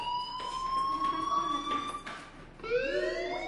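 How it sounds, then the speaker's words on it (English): A fire alarm rings in the Life Is Strange video game: a steady high electronic tone that wavers and shifts pitch near the end, fairly loud and close, with no voices. "do you hear that fire alarm?"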